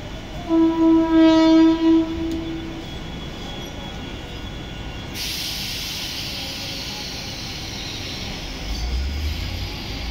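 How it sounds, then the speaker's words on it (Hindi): A Mumbai slow local train bound for Parel pulls into platform 2 of a station, sounding a loud, steady horn blast for about two seconds, followed by a continuous rumbling hiss as it rolls in. "10:58 की परेल जाने वाली धीमी लोकल थोड़े ही समय में प्लेटफॉर्म क्रमांक 2 पर आ रही है।"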